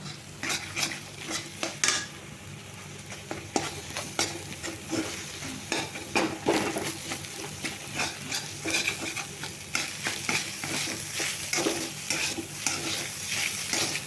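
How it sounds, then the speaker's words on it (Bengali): Egg and hakka noodles are stir-fried together in a wok, a metal spatula scraping and clattering in constant rhythm over a low, steady sizzle. "ডিমটা একটু ফ্রাই করে নিয়ে আমি নুডলসগুলো মিশিয়ে দেবো"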